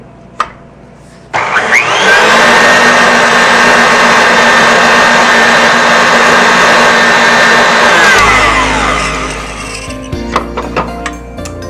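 An electric mixer gives a bowl of stiff meringue a final mix, starting with a click, then a loud, steady high-speed whir for several seconds before winding down, followed by scattered knocks and clinks.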